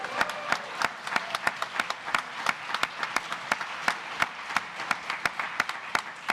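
Conference audience applauding, with individual claps spread through a room in a loose, sustained rhythm. No clear cheering stands out above the clapping.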